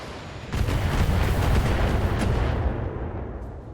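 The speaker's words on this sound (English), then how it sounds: "they're probably going to start pelting us with missiles in a second" Missiles slamming into a mech in the BattleTech video game make a loud cluster of booming impacts that roll together into a dense rumble and then fade away.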